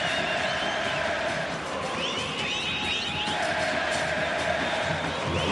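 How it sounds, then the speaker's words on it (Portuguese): Grêmio football fans roar and chant across a packed stadium during a Gauchão 2016 match against Passo Fundo, a broad sustained crowd wash with rising whistles and cheers, distant and steady throughout. "E aí a torcida do Grêmio."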